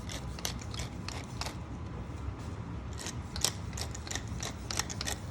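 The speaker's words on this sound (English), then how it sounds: "If you have a pepper grinder, that's fine, go ahead and use that." A pepper grinder cracks black pepper up close, a continuous gritty crunching with fast, irregular clicks as the mill is twisted, fairly loud and with no voices.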